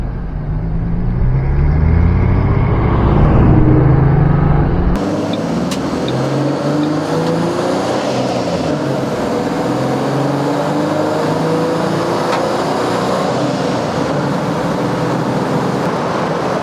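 A 1940 Ford Coupe driving around the block, engine loud and close at first, then the car pulls away into a steadier, more distant road rumble with tire and wind noise.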